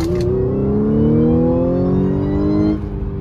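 A 2013 Audi S4 B8.5 with a new aftermarket intake revs hard in a single continuous pull, its engine tone climbing steadily for under three seconds before cutting off, loud and close.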